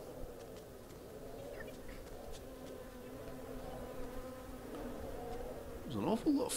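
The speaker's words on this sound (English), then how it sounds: "There's an awful lot of flies buzzing around here." Flies buzz around in the video game Submerged, a steady, faint insect drone throughout, swelling near the end as a fly passes close.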